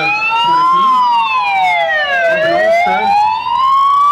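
A police siren wails loudly and close by, its pitch sweeping up and down in a steady cycle, with faint engine rumble underneath.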